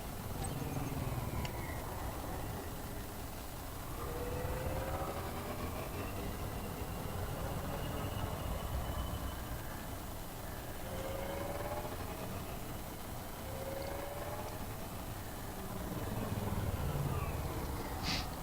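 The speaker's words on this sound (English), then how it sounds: "Those engine sounds, though, am I right?" The Viper spaceship in the video game Elite Dangerous hums with a continuous, loud, rumbling engine drone that swells and eases in slow waves, with whining tones sweeping through it.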